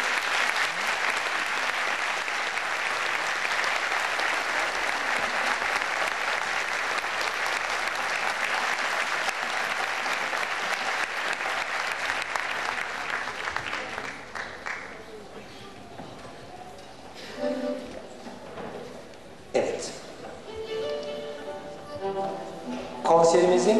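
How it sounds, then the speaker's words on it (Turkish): Concert audience applauds for the choir conductor of a Turkish classical music chorus, sustained dense clapping for about fifteen seconds that then thins into scattered claps, shuffling and brief voices. "Evet, alkışlarınız ona eşlik ediyor."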